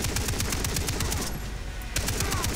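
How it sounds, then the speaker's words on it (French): Sustained automatic fire from a heavy machine gun in the video game Far Cry 3, a loud, rapid stream of shots with a brief lull before the fire bursts back in, alone without voices. "Faut que je fasse gaffe parce qu'elle chauffe la mitrailleuse."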